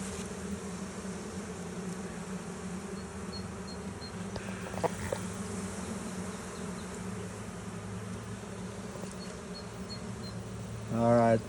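Honeybees hum in an open hive during an inspection, a faint, steady drone with a few soft clicks and handling noises, and a brief voice at the very end.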